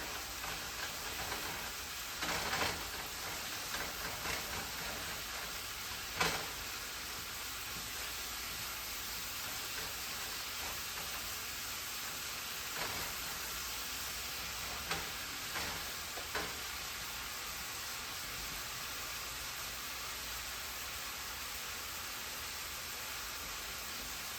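Ground meat and vegetables sizzle steadily as they brown in a pan, a soft continuous hiss with a few faint clinks of stirring scattered through, no voices.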